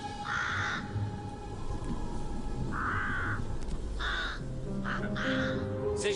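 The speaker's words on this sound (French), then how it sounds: "C'est juste un corbeau." Several harsh crow caws ring out in separate bursts over steady outdoor background noise, one group near the start and more calls clustered toward the end.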